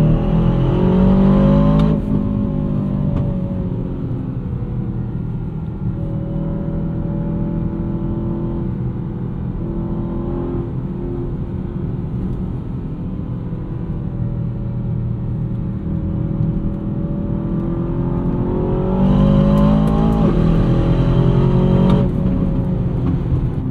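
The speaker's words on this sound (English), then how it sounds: "you've got a bit of road noise with these" A steady low rumble of road and tyre noise fills the cabin of a 2024 Aston Martin DBX 707 SUV on the move, its AMG-powered engine droning underneath and swelling slightly near the end.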